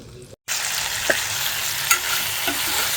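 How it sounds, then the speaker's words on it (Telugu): Whole spices fry in oil in a pan, a loud, steady close sizzle with a few light stirring scrapes after a brief break at the start. "ఇవి లైట్గా డ్రై ఫ్రై చేయాలి, బట్ నాకు టైం తక్కువ ఉండి ఆయిల్లోనే ఫ్రై చేసేస్తున్నాను."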